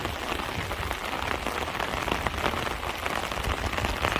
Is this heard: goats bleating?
no